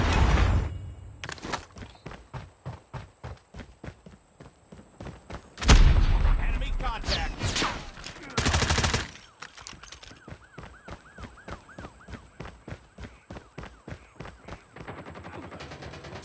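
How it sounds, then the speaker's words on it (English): Gunfire and a missile strike in the Call of Duty video game: rapid machine-gun bursts, then a loud explosive impact midway, followed by further bursts and a siren-like tone. "Predator missile inbound."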